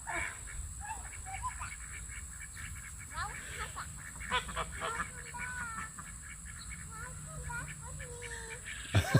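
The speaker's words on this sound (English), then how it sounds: "And here go the geese." Geese honking on a farm, a scatter of nasal calls rising from a busy flock, with other fowl and faint background voices mixed into steady outdoor noise.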